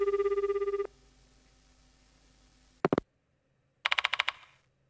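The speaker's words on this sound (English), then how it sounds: "I pick up the phone in the infirmary and punch in the mansion's number." A telephone in the Death Mark II video game rings after a number is dialed: a loud, rapidly warbling ring, then a pause and two shorter trilling bursts, with no talking.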